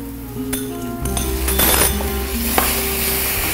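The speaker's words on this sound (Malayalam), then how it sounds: "നമുക്ക് തക്കാളി ഇട്ട് കൊടുക്കാം." Chopped tomatoes go into a pan of frying onions, with a metallic clink of a utensil against the pan followed by a steady sizzle and stirring scrapes, close and fairly loud.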